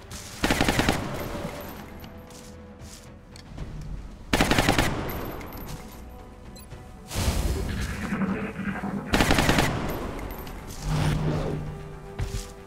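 Gunfire in the video game XCOM Long War: several loud bursts of automatic weapon fire, each a sharp rattling volley followed by quieter gaps, with no talking.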